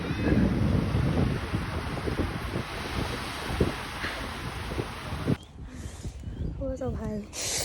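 Wind buffets a microphone outdoors at a glamping spot in Brisbane, a loud continuous rushing roar that suddenly drops away, leaving quieter surroundings and faint voices.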